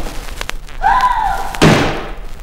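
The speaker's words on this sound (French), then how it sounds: "Elle referma vivement la porte" A door slams shut in a single sharp thud near the end, following a brief creak or whine, set within a French-language fairy tale narration.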